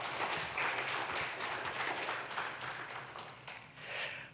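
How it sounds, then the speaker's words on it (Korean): A church congregation at a year-end worship service breaks into a round of applause, a dense wash of clapping from many hands that swells and then tapers off, fairly distant and soft. "우리 힘찬 박수 한번 할까요?"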